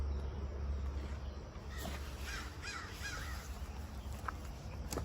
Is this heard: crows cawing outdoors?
yes